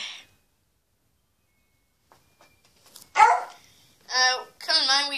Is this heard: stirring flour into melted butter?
no